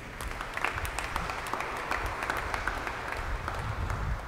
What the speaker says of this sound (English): Let's give June a round of applause.